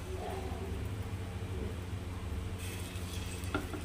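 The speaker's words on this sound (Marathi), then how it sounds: "तर यामध्ये आपण हे बॅटर ॲड करू" Rava appe batter sizzles in a hot appe pan as it is poured in, a steady soft hiss and crackle with a few faint clinks of the pan near the end.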